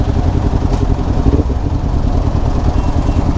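A motorcycle fitted with a DX Generation aftermarket exhaust idles close up, a loud, deep, even burble that pulses steadily throughout with no other sounds.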